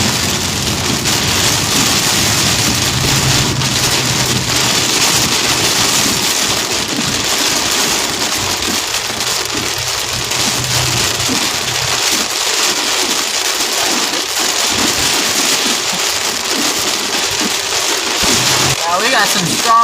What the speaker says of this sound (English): We got some strong winds blowing here, guys. Big time winds.